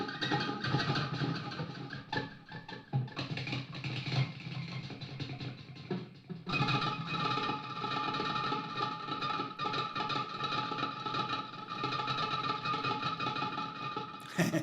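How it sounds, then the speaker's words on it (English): An electric guitar string is pushed against the bridge pickup of a Stratocaster through a high-gain amp, giving quiet buzzing, crackling bursts that stop and start in a choppy, Morse-code-like pattern. "go to the bridge pickup and just push the string into the pickup"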